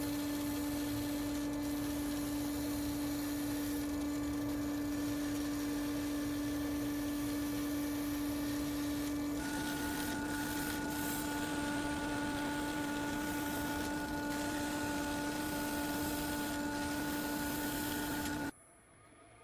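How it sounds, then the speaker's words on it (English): An angle grinder sands a wooden handle with a steady, loud whine. The tone holds even and shifts pitch partway through, then cuts off at the end. "To sand the surface of the handle, I use an angle grinder."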